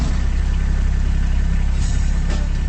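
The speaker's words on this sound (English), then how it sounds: "That's the sound of a Kubota RTV utility vehicle." Kubota RTV utility vehicle engine idling at close range, a steady low rumbling drone that holds even throughout without revving.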